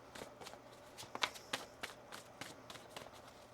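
A deck of tarot cards is shuffled close by, a series of soft, evenly spaced slaps and riffles, faint and alone without talk.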